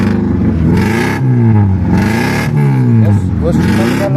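A 2000 Opel Astra engine, partly dismantled for fault-finding, runs close by with a rough idle that rises in several revving swells, while people talk loudly over it.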